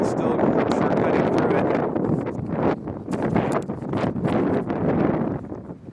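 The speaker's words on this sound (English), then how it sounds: "It's very, very windy out on the lake here." Strong wind blows over a frozen lake in winter, roaring and buffeting loudly against a partly covered microphone in continuous heavy gusts.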